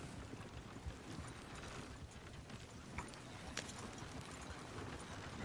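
Horse hooves clip-clop steadily in Red Dead Redemption II, a continuous busy patter of footfalls over a dense low rumble, fairly close and with no speech.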